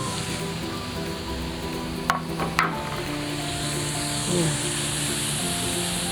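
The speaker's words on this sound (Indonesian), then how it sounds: "sudah terdengar kan suaranya kemerengseng" Continuous sizzling and crackling of chicken frying in a hot nonstick pan outdoors, close and steady, with a couple of brief clinks of a utensil.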